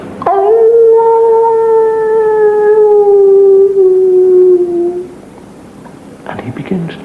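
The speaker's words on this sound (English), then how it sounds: "And in the distance, the howl of the werewolf." A werewolf's long, drawn-out howl rises and slowly falls over about five seconds, loud and wavering, then fades to quiet with a few scattered rustling sounds at the end.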